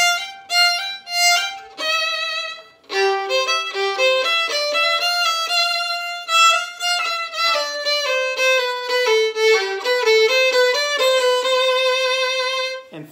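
A solo violin plays a mariachi-style line, with quick grace notes against a sustained F natural. The notes are bowed, bright and rich, with clear ornaments in a steady phrased passage and no voices.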